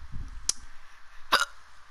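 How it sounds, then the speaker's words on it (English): Two sharp hiccups from a person, well spaced about a second apart, the second one louder and broader, with faint low rumble in between. "Got the hiccups, so this is not gonna be good."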